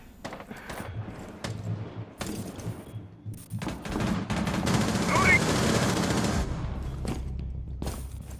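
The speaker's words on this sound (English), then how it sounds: "bullets flying everywhere" Rapid bursts of gunfire in a Rainbow Six Siege esports match, loud automatic fire in clustered volleys with some single shots, swelling to a sustained barrage, with a commentator talking over it.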